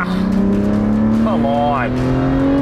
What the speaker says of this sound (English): That's the slowest Aston Martin launch in the history of Aston Martins.